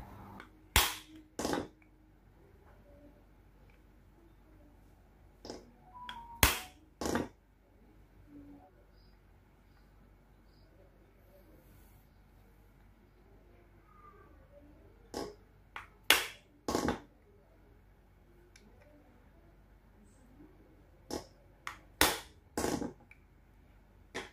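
Metal tools tap a metal bracket beside a plastic MAP sensor on a Toyota Soluna engine, producing sharp, sudden clinks in scattered pairs and clusters with quiet gaps between them, close and clear.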